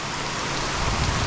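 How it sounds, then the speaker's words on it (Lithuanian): Steady rain falling at a lake during bream fishing, a dense, even hiss of drops on water and surroundings, loud and continuous with no voices. "Tegu lyja."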